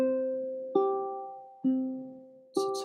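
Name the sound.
ukulele alternating thumb technique, Pendulum, played slowly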